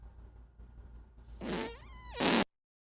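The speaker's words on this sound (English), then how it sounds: "I like how he has to go to a separate thing to play Marcy's fart" A cartoonish fart sound effect played from a soundboard: a long, loud, buzzy blast with a wavering pitch that swells and then cuts off abruptly, following faint background murmur.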